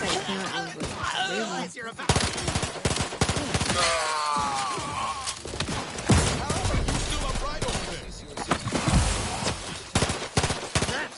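Gunfire in the Outer Worlds 2 video game, bursts of rapid shots and impacts mixed with game voices and effects, loud and near throughout.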